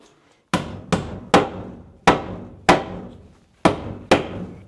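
Hammer blows strike wood at an off-grid homestead in Alaska, seven sharp, loud thwacks in an uneven rhythm, each ringing briefly before the next, with no talking.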